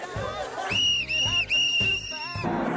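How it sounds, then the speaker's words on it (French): A referee's whistle is blown to end a match, a loud, sharp whistle that sounds in several bursts amid crowd noise and excited voices. "Je siffle la fin du match."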